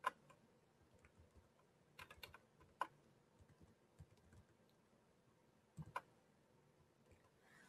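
Typing on a computer keyboard, faint close key clicks in irregular bursts with a few sharper louder strikes and quiet gaps between them.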